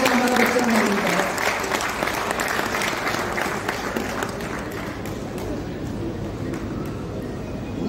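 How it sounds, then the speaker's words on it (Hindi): Loud applause from the crowd at a Jawahar Navodaya Vidyalaya alumni meet, starting strong and easing slightly but staying steady throughout, with a voice speaking over it. "जोरदार ताली बजाइए सीनियर से"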